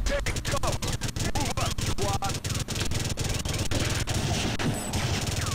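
Rapid sustained automatic gunfire in the video game Second Sight during a mission entering a Russian base with a minigun, dense evenly spaced shots, loud and continuous, with a voice talking briefly over it.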